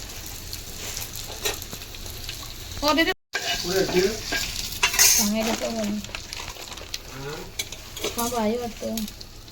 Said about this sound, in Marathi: आता इथे मी कांदा, धने, मिरची आणि तीळ, खोबरं छान असं किसलेलंच खोबरं आहे छान असं परतून घेते तेलामध्ये